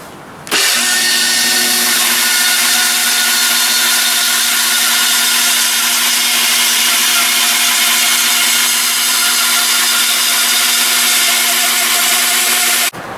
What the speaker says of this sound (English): finished in the middle on the bandsaw